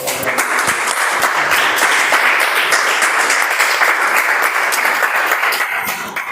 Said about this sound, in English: Huge round of applause for all the members